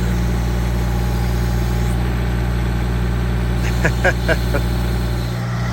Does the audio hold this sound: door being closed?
no